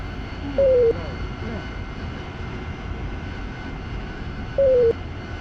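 Idling aircraft engine after landing in DCS World, a steady low drone throughout, with two short tonal radio-like beeps standing out above it.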